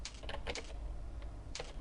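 Keys clatter on a computer keyboard in short quick bursts with small pauses between, close and fairly quiet, with no talking.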